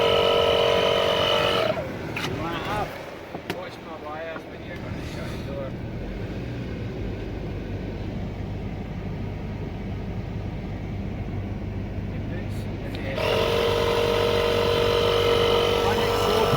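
Skoda Superb mk1 engine idling while warming up to temperature, a steady low rumble heard up close outdoors, with a brief quieter stretch in the middle where wind or handling noise covers it; the car has broken wires to the manifold flap.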